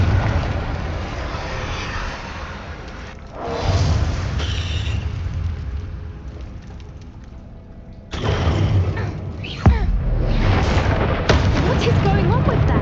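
Spell blasts from the Confringo fire spell in the Hogwarts Legacy video game, during the Centaur and the Stone quest: loud booming explosions with a heavy rumble, bursting at intervals over continuous game noise, with a sharp crack near the end.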